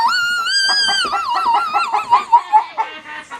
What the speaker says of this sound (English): Sorry, the chickens are making so much noise.